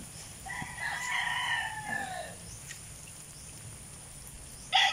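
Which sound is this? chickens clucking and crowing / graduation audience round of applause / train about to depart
chickens clucking and crowing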